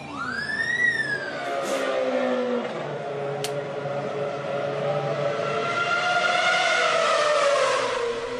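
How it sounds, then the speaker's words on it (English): Formula 1 cars at the 2011 Monza start scream past into turn one, rising and falling engine whines with a sharp Doppler sweep, loud and continuous, with no voices. "The Ferrari took the lead into turn one, but Liuzzi"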